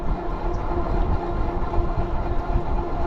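Heavy, sustained rumble of a Metrolink passenger train rolling by close on the tracks near a riverside trail, steady and loud from start to finish.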